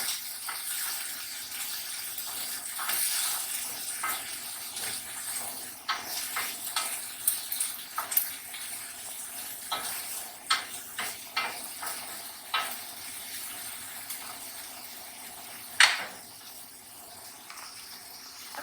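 Raw banana slices sautéing in a pan, a steady close sizzle with repeated scraping and stirring clicks from a utensil, no talking.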